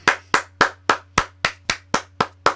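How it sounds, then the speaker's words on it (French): Ten sharp, evenly spaced hand claps ring out alone at a medieval festival, a steady rhythm of loud, close single claps with a faint low hum underneath. "Alors là, je ne peux qu'applaudir."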